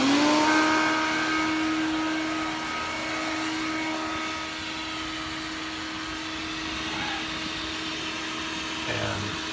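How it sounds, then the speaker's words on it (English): A shop vac switched to blow mode pushes air into a car exhaust pipe, giving a steady, loud motor whine and rushing air that holds on continuously with slight pitch shifts. "So the shop vac has been switched from the inlet to the outlet so it blows out instead of sucking in."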